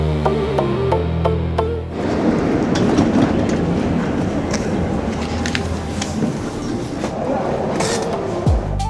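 A tram runs through Prague with a loud, steady rumble and rhythmic clatter of wheels on the rails. Brief tones are heard just before it, and a short squeal comes near the end.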